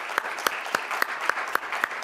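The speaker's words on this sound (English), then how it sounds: "A round of applause for facilitators." At a keynote talk, clapping breaks out in a steady, evenly spaced rhythm of sharp claps, fairly close and moderately loud, with no speech over it.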